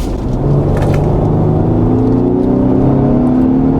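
Lincoln Aviator plug-in hybrid under full-throttle acceleration: a loud, continuous engine roar layered with an electric-motor whir, its tones climbing steadily in pitch, heard from inside the cabin with no talking.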